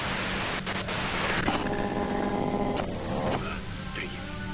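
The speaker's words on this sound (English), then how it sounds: "you can do it through the white noise" Hiss of white-noise static from the Disco Elysium video game, a broad steady rush at first, then softer static under a voice that talks through it.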